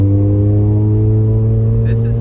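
Rumbling idle from a Mazda RX-7 rotary with a Racing Beat aftermarket exhaust, a steady close, loud low drone with strong even harmonics and no change in pitch.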